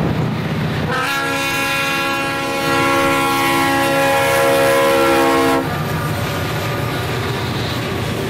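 A Norfolk Southern freight train, C29, running between Sharon and Meadville, Pennsylvania, blasts a loud, sustained horn for several seconds over the steady rumble and rolling clatter of the passing train.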